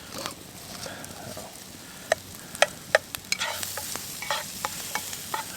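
Onions and tomato sizzle in a pan over an outdoor cooking setup in the woods, a continuous soft frying hiss punctuated by sharp clicks and scrapes of a utensil stirring, growing busier toward the end.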